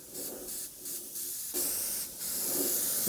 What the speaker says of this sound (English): So what I'll do is I'll spray that on.